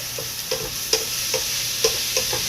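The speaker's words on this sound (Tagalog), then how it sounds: "punas-punas while nagluluto kasi maraming silaksik na mantika" Pork and hotdog frying in hot oil that spatters, a steady close sizzle broken by regular scraping stirs and small sharp pops, with no talking.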